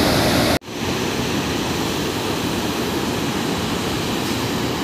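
Mukkha Falls waterfall roars as a steady, dense wash of rushing water that fills the whole clip, broken only by a brief dropout near the start, with no voices.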